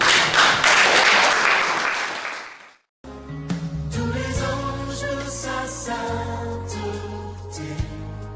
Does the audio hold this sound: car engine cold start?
no